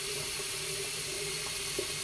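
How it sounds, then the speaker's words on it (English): Cold water from a tap running over a freshly shaved head: a steady, close rushing stream with a few small splashes, and no speech. "just going to throw some cold water on my head."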